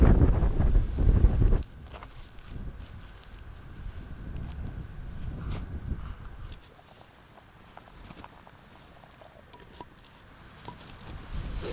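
Wind buffets the microphone in low rumbling gusts behind saxaul shrubs, loud at first and then easing to a steadier, quieter blowing.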